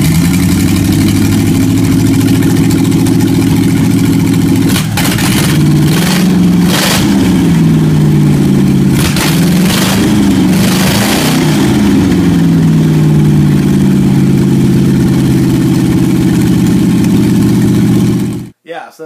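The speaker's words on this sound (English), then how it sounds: "Check it out running." A Hemi engine in a garage idles with a deep steady rumble, broken by several sharp revs in the middle before it settles back to idle and cuts off at the end.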